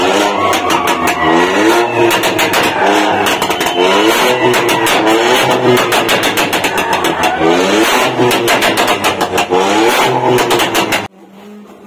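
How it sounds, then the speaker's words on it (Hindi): Loud engine revving from modified cars, including Lamborghinis, at a college supercar show, with repeated throttle blips rising and falling in pitch, close and continuous for about eleven seconds before cutting off abruptly. "वो जो आवाज़ कर रही है ना गाड़ियाँ फुल एकदम फाड़ू"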